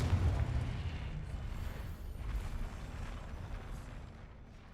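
Confringo explosion spell cast in Hogwarts Legacy, a deep rumbling boom that swells at the start and rolls on as a dense low roar, fading gradually over several seconds with no voice.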